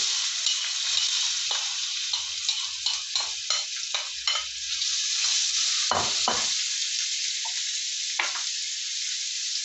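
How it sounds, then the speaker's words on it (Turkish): Onions sizzle in extra virgin olive oil in a cooking pot, with a soft, even hiss. Close, irregular stirring scrapes and clicks come and go throughout. "yarım çay bardağı dolusu sızma zeytinyağımı döküyorum. Sonra soğanlarımı ilave ediyorum."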